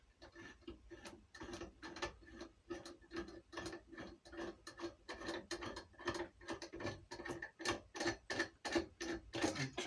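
A hand rivnut tool squeezes and releases to set a rivnut, with a washer behind it, while mounting a charge controller, giving a dense run of close ratcheting clicks and mechanical ticks that grows louder toward the end.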